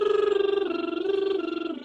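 A singer's motorboat lip trill buzzes with rapid fluttering pulses as a sung pitch steps down in triplets, heard close and alone for about two seconds.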